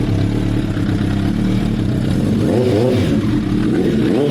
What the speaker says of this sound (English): Love that exhaust.